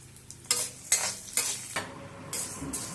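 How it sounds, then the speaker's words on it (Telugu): Urad dal frying in a little oil in a pan, heard as a close, loud sizzle with repeated bursts of stirring and scraping, roughly four or five quick strokes in a row, with no talking. "చూసారా ఇలా కొంచెం నూనెలో వేపుకోవాలి."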